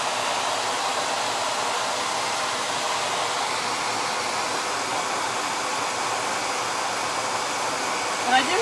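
A heat dryer blowing steadily on chalk paint, a loud, even, close rushing whir that holds unbroken for several seconds with a small knock near the end.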